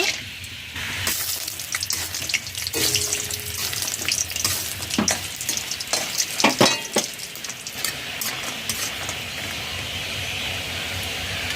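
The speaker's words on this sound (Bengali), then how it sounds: "কড়াইতে তেল গরম হয়ে গেছে বাড়িতে তৈরি করা মুসুর ডালের বড়ি দিয়ে দেব" Homemade lentil bori frying in hot mustard oil in a kadai, a steady close sizzle with crackling pops and bursts that swell midway and then settle back to an even hiss.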